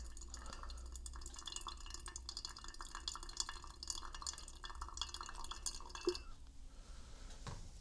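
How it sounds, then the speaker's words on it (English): A soft, steady trickle of water pours gently over coffee grounds straight down the middle for several seconds, quiet and close, then stops near the end. "this is meant to be a gentle pour straight down the middle"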